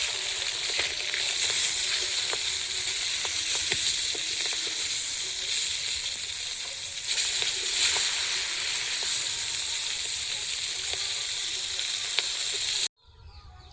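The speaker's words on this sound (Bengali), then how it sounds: "মাছগুলো ভাজা হয়েছে, তুলে নিচ্ছি।" Fried fish sizzle loudly in hot oil in a pan as the pieces are lifted out, a constant crackling hiss with scattered pops that stops abruptly near the end.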